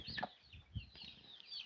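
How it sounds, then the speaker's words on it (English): Broiler chickens on a farm cluck softly and faintly in a few short, scattered calls. "And these are our broiler chickens"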